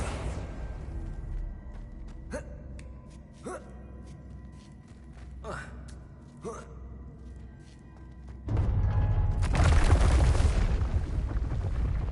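A Confringo fire spell in Hogwarts Legacy goes off with a deep rumbling explosion near the end, after several sharp spell-casting bursts and whooshes, within game sound effects and music.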